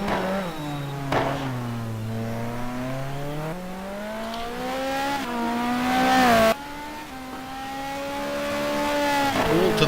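Racing game car powering out of La Source hairpin at Spa-Francorchamps in a GT2 race, engine revving hard with rising and falling gear tones, a brief tire squeal as the car slides sideways on corner exit, loud and continuous.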